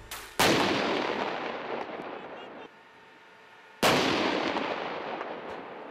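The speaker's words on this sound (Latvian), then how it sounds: "Tas, manuprāt, ir pirmais tanku šāviens Ādažu poligonā kopš okupācijas perioda." Two heavy booming shots from an Abrams tank main gun on the Ādaži firing range, each a sharp loud blast trailing off into a long rumbling decay, a few seconds apart.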